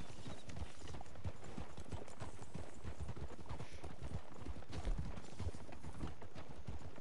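Horse hooves clip-clopping in the video game Red Dead Online, a brisk, continuous run of close, rhythmic hoof strikes heard alone at a steady moderate level.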